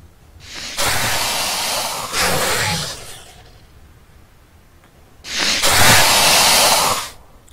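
The sand worm creature in the survival game Osiris: New Dawn, producing loud, breathy roaring hisses in long surging bursts, two close together then a pause and another, heavy and rushing like wind.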